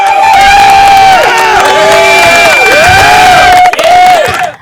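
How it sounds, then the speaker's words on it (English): Crowd cheering loudly, with high sustained voices and whoops rising and falling in wavering shouts close by, sustained for several seconds before breaking off abruptly. "that's the type of cheering I like to hear for your girl"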